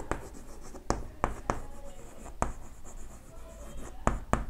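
Pen scratching on paper while a geometry proof is written out for a Class 10 maths exercise, with short strokes separated by sharper taps as the pen touches down, close and moderately loud.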